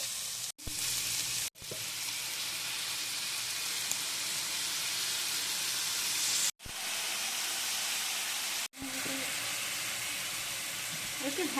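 Meat frying in a pan during home cooking in Mexico, a steady close sizzle with broadband crackle running nearly the whole time, broken by a few abrupt brief cuts to silence.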